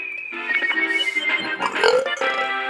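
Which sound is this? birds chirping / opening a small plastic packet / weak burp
weak burp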